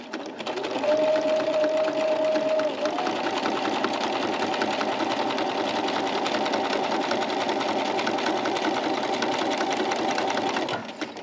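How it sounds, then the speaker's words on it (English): A sewing machine stitches in the ditch along a quilt's outside edge, a steady close whirring hum with a rapid needle rattle running continuously for about ten seconds, with a brief tone near the start. "So I'm just going to go stitch in the ditch, stitch in the ditch out to that outside edge."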